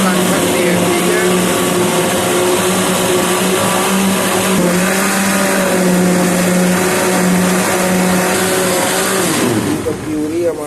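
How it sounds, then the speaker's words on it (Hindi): A mixer grinder blends tomatoes into puree, a loud, steady motor whine with a droning hum that runs close and constant, then slows and cuts off near the end. "मैं मिक्स करके आपको बताता हूँ। ठीक है, तो आपके पास अगर मिक्सर ना हो तो आप ग्राइंडर में भी इसको कर सकते हैं।"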